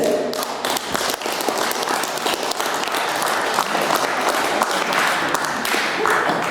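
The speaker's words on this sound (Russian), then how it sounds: "Аплодисменты" Audience applause at a Sakha (Yakut) community celebration, a sustained loud wash of many hands clapping evenly throughout.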